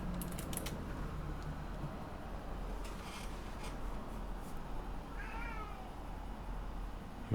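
A house cat gives a short meow partway through, faint against a steady background hum with occasional creaks and clicks.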